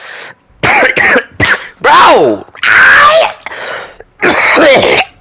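A sick person coughs and clears their throat in rough, harsh bursts, loud and close, a string of short spasms with one brief spoken exclamation among them.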